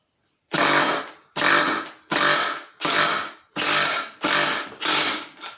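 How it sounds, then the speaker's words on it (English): A Milwaukee 18V Fuel Surge impact driver struggles to drive a heavy lag bolt, sounding as seven loud, close bursts of rough motor whirring, each under a second, separated by short pauses. "so I guess it's not made to drive heavy duty lag bolts"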